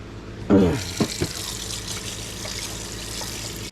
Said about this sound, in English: wash it up in the sink